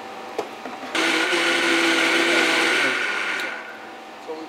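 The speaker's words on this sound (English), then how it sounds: "And that goes into the blender with the strawberries." A blender blending strawberries and coconut water roars to life, runs loudly at a steady whir for a few seconds, then winds down and stops.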